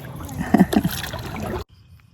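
Canoe paddle strokes on a Tennessee lake or river, a few close watery plunges and gurgles, then cutting off abruptly to quiet.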